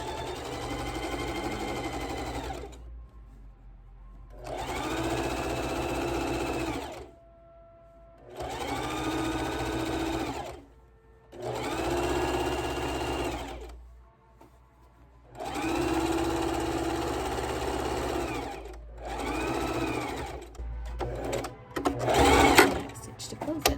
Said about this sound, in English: Then I'm just going to take it over and stitch it down.